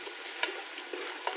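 Seedless raisins fry in a pan for Thalassery mutton biryani, giving a steady close sizzle with a few light stirring taps.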